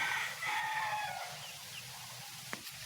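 A rooster crows once from a moderate distance at a small backyard chicken farm, its drawn-out call fading into steady outdoor background noise.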